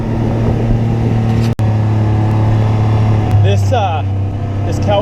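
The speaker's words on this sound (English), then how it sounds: "it's a Kawasaki Mule Pro FXT. It's got the 2nd row of benches." A Kawasaki Mule Pro FXT utility vehicle with a second row of benches drives across a cattle ranch, its engine droning steadily and close, with a brief dropout partway and a rising whine near the end.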